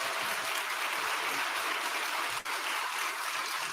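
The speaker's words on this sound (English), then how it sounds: "give them a round of applause" Audience applause following a UCP leadership debate exchange, a steady dense wash of clapping with no pauses, heard at moderate level throughout.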